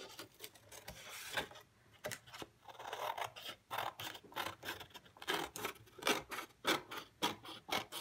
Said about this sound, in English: Taking some of this tape off just cleans it up a little bit.